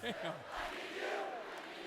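A football stadium crowd at Camp Randall, Wisconsin, sings together as one broad, sustained roar of massed voices, steady and loud from start to finish, with no other sound standing out.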